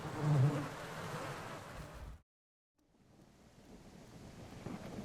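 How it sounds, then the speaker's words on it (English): A thunderstorm in a dinosaur survival video game brings a broad roar of wind and rain, loud at first, then cut off by a brief silence before the storm returns more softly. "the storm provided perfect cover to sneak up on them"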